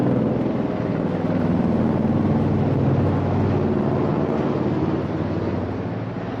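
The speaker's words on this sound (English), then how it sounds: "That was a helicopter for Niagara helicopters, I believe they're called." A loud, steady engine drone of a Niagara tour helicopter overhead, broad and rumbling, holding at constant strength throughout with no talking.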